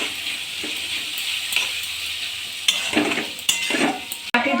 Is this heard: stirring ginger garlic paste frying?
yes